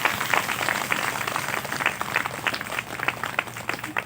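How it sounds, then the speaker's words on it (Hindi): A church congregation claps together for Jesus at a Hindi sermon, and the applause holds steady and dense from start to finish. "सब ताली बजाएंगे यीशु मसीह के लिए।"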